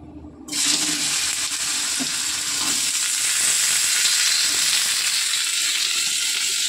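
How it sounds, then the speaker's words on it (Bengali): Potatoes go into hot oil in a kadai and fry. A sharp hiss bursts in within the first second, then a loud, dense, close sizzle holds steady throughout with faint crackles underneath. "আমি এবার আলুটা কিন্তু ভেজে নেব।"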